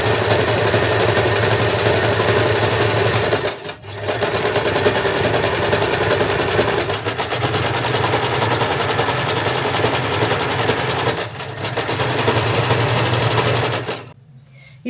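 A sewing machine zigzag-stitches a stretched seam on a swimsuit, whirring in a steady, close, continuous drone with a few momentary pauses before it stops near the end.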